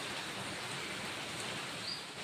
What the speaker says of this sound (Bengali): এই যে অঝোরে বৃষ্টি হচ্ছে।